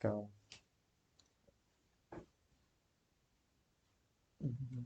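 Computer mouse clicks, crisp and close, a handful of single clicks spaced irregularly across a quiet stretch, with a brief voice at the start and end.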